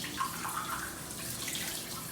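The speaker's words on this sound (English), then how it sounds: "Now we'll empty the glass out, rinse it out nicely," Water runs steadily from a tap as a drinking glass is emptied and rinsed at a sink, a continuous close splashing hiss with no talk.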